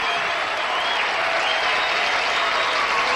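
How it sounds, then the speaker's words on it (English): Studio audience applause on the Card Sharks game show: steady, dense clapping from a crowd fills the whole stretch at a loud, even level, with no talk on top. "That clapping was definitely out of tempo."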